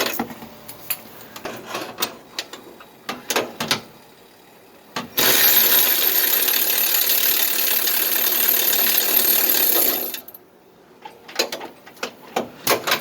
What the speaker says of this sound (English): Just break it loose because it's in there pretty tight, and then you can remove it using an electric socket